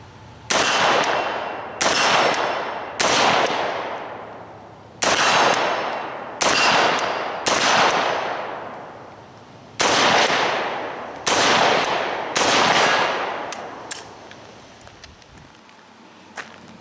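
An Arsenal SGL 31-94 AK-74 rifle firing 5.45x39 rounds with a red dot sight at steel plates 50 out: about a dozen sharp, loud, closely miked shots at uneven intervals, each with a ringing decay, and no speech.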